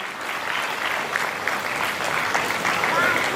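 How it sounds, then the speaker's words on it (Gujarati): Steady applause from the audience at a community charitable trust gathering in Surat, a continuous rustling clatter of many hands, with a voice talking over it. "જોરદાર તાળીઓથી વધાવી"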